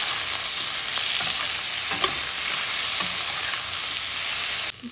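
Bitter gourd sizzles steadily in hot oil while a spoon stirs it, with salt and turmeric added, for Bengali bitter dal. The frying hiss is loud and constant, broken by a few soft scrapes, and stops abruptly near the end.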